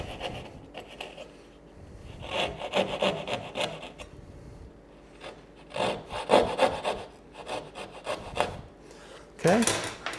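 Hand saw cutting through wood in a woodworking comparison of Japanese and American saws, with irregular rasping strokes in bursts, close and fairly loud, with short pauses between strokes.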